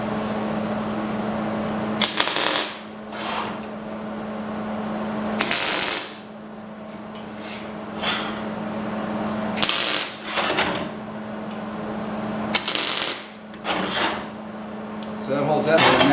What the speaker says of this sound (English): we'll just give it a couple quick tack welds